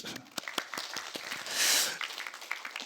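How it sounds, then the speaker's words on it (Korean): During a Sunday church service, scattered applause rises in the congregation: loose, uneven claps from a modest crowd, fairly close, with a brief swell in the middle before thinning out. "박수."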